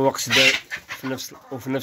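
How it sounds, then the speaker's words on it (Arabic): Australorp laying hens clucking in short repeated bursts, close and fairly loud, with a few pauses between the calls. "وكاين عاوتاني الدجاج الاسترالوب، راه تبارك الله حتى هو دجاج بياض وبامتياز."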